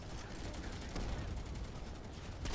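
Rapid gunfire from a video game firefight, bursts of shots crackling continuously at moderate distance and fairly quiet, with no speech over it.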